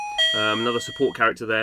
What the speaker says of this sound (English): Excuse my doorbell.